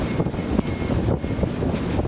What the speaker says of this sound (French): Le vent souffle avec une puissance telle qu'il pousse l'océan, créant des éclaboussures qui défient chacun de nos pas.